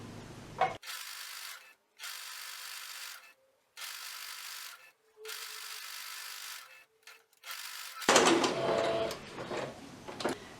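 A sewing machine stitches plush fabric with backstitching on a teddy bear comforter, several short bursts of steady whirring separated by brief pauses, ending in rustling handling noise.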